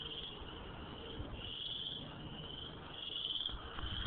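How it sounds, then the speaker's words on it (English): Frogs croaking by a pond at Sherwood Park near Edmonton, a steady dense chorus of calls that sounds insect-like and continuous, moderately faint with a soft outdoor background. "the frogs croaking in the background"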